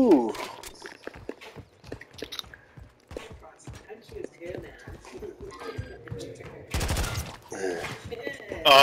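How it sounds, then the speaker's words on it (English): Video game gunfire, a scatter of rapid sharp pops and clicks spread throughout with a denser noisy burst near the end, mixed with footstep-like taps while players talk over it. "they're shooting over there"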